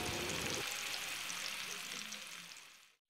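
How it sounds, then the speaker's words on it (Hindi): Fish pieces frying in hot oil in a pan for Indian fish curry, a steady close sizzle that holds strong and then fades near the end before cutting out. "इसको हम हल्का ब्राउन होने तक फ्राई करेंगे।"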